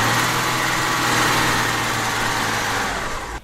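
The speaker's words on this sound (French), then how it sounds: "il a fallu que j'enregistre le son de la moto et de la BM" A stationary motorcycle or BMW car engine revved in neutral, a steady high buzzing roar held for a few seconds with no talk, cutting off abruptly at the end.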